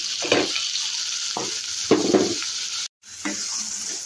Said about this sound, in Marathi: हे बघा, तेल तापलं आहे. यामध्ये 2 मोठे चिरलेले कांदे खूप बारीक चिरलेले.